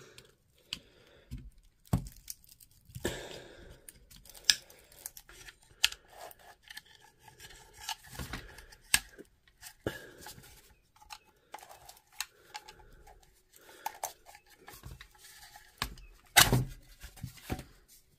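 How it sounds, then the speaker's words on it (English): A part being worked out of its casing during a quick repair, heard as scattered scrapes, clicks and plastic rubbing at close range, with irregular sharp knocks and no talk. "So the next step is to just get it out of the casing."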